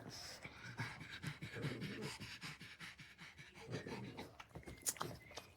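Dogs pant rapidly and steadily at close range inside a hot car, a fast rhythmic huffing of breath with an occasional snort, and no talk.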